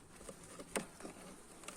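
Honeybees around an opened beehive during syrup feeding and comb adding: a faint, low buzzing with light patter and a brief sharper tap, close and quiet.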